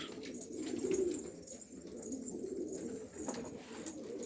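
Pigeons in a loft holding Hungarian and other fancy breeds coo in low rolling phrases, several birds overlapping at close range with a few sharper sounds among them.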